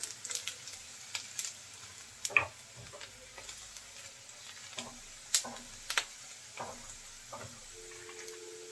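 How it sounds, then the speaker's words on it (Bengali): Chopped onions fry quietly in a pan as the base for a baim (eel) fish curry with potatoes, a faint low sizzle broken by sharp scraping and tapping of a spatula stirring at irregular intervals. "পেঁয়াজটা আমি একটু লাল করে ভেজে নেব"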